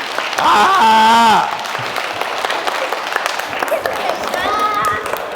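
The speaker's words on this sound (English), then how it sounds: "Ooh, can we clap for imagination?" An audience at a motivational talk breaks into a short burst of clapping that rises and fades, with a voice speaking over the start and continuing after.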